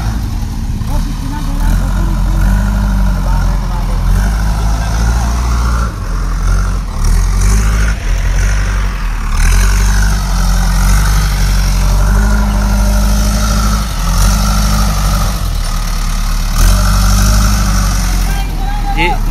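A Massey tractor engine runs in a farm field, a steady low rumble that continues throughout with slight surges, while voices talk over it.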